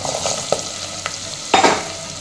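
Shallots and about a dozen garlic cloves sautéing in oil for a Tamil spinach kuzhambu, a steady close sizzle broken by a few spoon scrapes and stirs, the loudest burst near the end.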